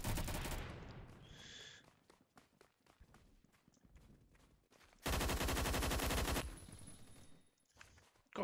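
Bursts of automatic gunfire in the Phantom Forces video game, a dense sustained volley near the middle after scattered sharper shots, loud and close with no talk over it.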